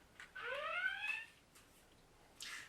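A USS Enterprise-D toy ship sounds its red alert: a rising electronic whoop that swells, fades and begins again, faint and alone.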